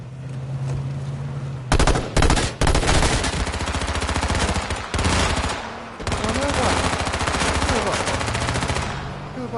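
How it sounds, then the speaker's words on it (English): Sustained automatic gunfire in the video game H1Z1, with rapid bursts breaking into dense continuous firing, loud and close, with excited voices talking over it. "Oh, they're shooting you?"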